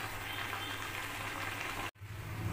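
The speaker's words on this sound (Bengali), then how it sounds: "এই দেখুন, আমার চচ্চড়িটা ফুটতে আরম্ভ করেছে।" Pui shak chorchori with fish head simmers in a covered pot, a steady soft bubbling and hiss that breaks off briefly, then resumes.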